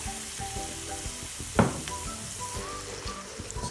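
Tomato paste made from three peeled tomatoes is added to garlic paste in a pan for pizza sauce, bringing a soft continuous sizzle with one sharp splash and spatter as it hits the hot oil.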